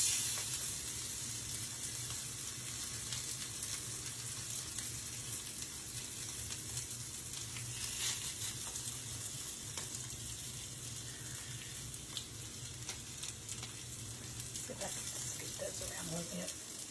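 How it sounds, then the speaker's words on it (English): Steady hissing sizzle of salmon patties frying in a hot pan, constant and close, with faint crackles throughout. "You want to hear that sizzle? That lets you know that your pan is good and hot."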